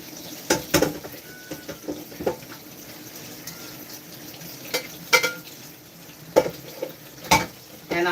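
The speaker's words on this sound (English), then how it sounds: "And I'm here washing my dishes because I also don't have the luxury of having a dishwasher." Dishes are washed by hand at a kitchen sink under steady running water, with a constant hiss broken by frequent clinks and knocks of plates and utensils, close and fairly loud.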